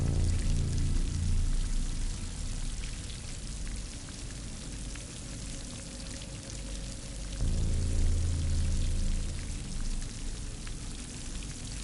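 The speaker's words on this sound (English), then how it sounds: "A lot of water in here." Steady rushing and pouring water in a Horizon video game level, a broad continuous wash that swells louder near the start and again after the middle, with a low rumble underneath and no talking.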